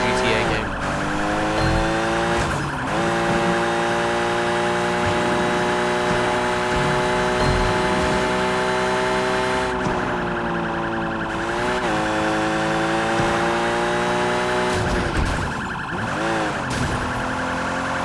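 Police car siren in the Hong Kong street setting of Sleeping Dogs, wailing steadily and loudly for the whole stretch with rising and falling sweeps, no talk over it.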